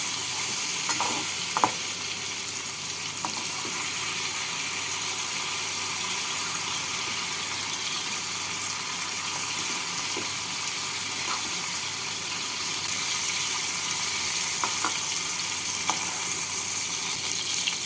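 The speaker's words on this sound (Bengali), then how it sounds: "পটলগুলো ভাজা হয়ে গেছে পটলগুলোকে তুলে রাখছি" Pointed gourd pieces fry in hot oil until lightly browned, giving a steady, even sizzle throughout with occasional small pops and stirring clicks.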